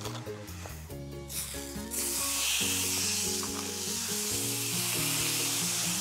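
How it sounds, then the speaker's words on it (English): Marinated pork loin laid on a cast iron grill pan breaks into a loud, steady hissing sizzle that swells about two seconds in and holds, with background music playing underneath. "I'm going to leave the pork on the grill and cook it for about 3 to 4 minutes on each side"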